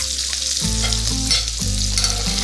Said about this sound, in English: I have it down low because these burgers are pretty thick. And as that butter melts